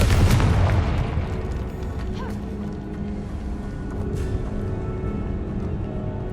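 A Confringo blasting spell goes off in Hogwarts Legacy with a loud, close boom at the start, then a rumbling tail fading into quieter game ambience.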